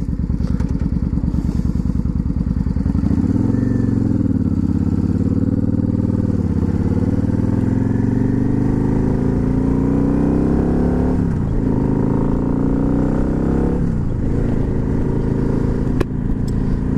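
A project motorcycle set up as a bobber, with imperfect jetting and air intake, runs steadily throughout, its loud continuous engine note rising and falling with throttle blips around the middle and near the end.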